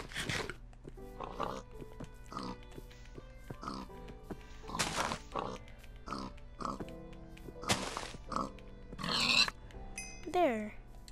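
A pig in the video game Minecraft gives short oinks and grunts between other game sounds, while a player talks over the gameplay.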